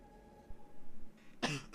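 A single sharp cough from a nearby person, a brief throat-clearing burst after a quiet lead-in, with a second smaller cough at the end.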